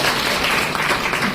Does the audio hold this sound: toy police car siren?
no